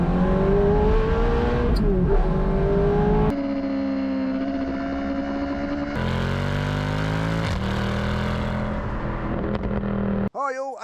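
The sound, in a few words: Lancia Delta HF Integrale Evoluzione car accelerating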